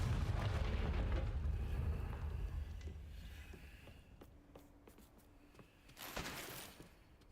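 A Confringo fire spell explosion in Hogwarts Legacy: a heavy, booming blast with a rumbling tail that fades. Shattering crackles and a smaller burst follow toward the end, and there is no talking.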